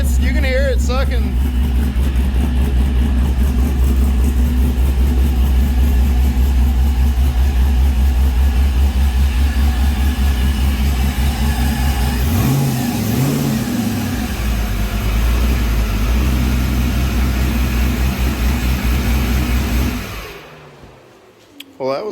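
An LS V8 swapped into a Chevy S10 runs close by with a loud, steady, lumpy idle and some intake rush, swelling briefly in a rev midway before cutting off near the end.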